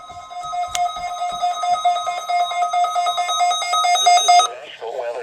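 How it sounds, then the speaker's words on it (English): NOAA Weather Radio warning alarm test from the National Weather Service office in Portland: a loud, steady electronic tone held for about four and a half seconds, then cutting off into a broadcast voice. "was a test of NOAA Weather Radio's warning alarm"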